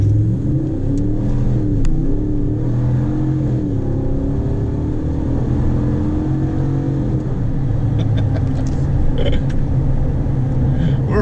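A tuned 2019 RAM 1500 pickup on all-terrain tires makes an acceleration pull: a deep engine rumble climbs in pitch as the revs rise, then holds at a loud, steady roar, heard from close inside the cab.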